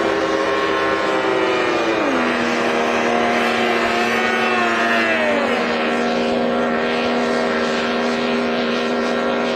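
Loud, continuous roar of a 1-liter class racing hydroplane engine at San Diego Bayfair, its pitch dropping and shifting as it runs past close by.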